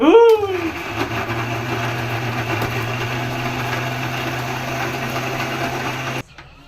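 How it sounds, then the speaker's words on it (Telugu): A kitchen mixer grinder blending tomato chutney, a steady high whirring motor drone that starts abruptly and runs continuously at close range before cutting off near the end. "ఇటు మిక్సీ పడుతున్నాం"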